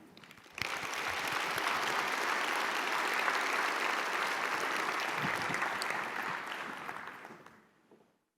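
An audience applauds to welcome a speaker onto the stage at a conference, with sustained, dense clapping that starts abruptly, holds steady for several seconds, then fades out.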